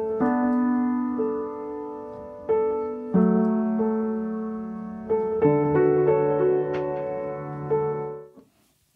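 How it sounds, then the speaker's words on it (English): Sustained piano chords with a slightly wobbly, tape-warped tone, played in slow successive changes with long ringing decay, close and fairly loud, ending abruptly. "we then ran it through a tape machine plug-in, and Ben tweaked it a little bit and made it sound a bit wobbly"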